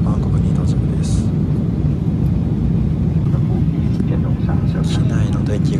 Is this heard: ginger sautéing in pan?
no